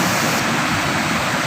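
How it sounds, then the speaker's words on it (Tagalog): Strong rushing water pours through Rizal dam in Nueva Ecija, a loud, steady, broadband roar that stays constant throughout with no voices. "pero ang lakas na rin ang agos ng tubig"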